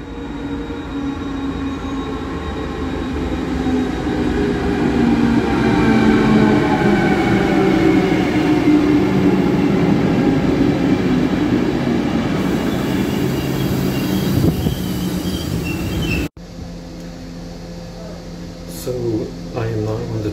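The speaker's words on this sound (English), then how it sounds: "But the question is, will I go with this train?" Loud rumble of a train rolling past with rattling wagons and faint squeals, ending abruptly into quieter ambience with a voice.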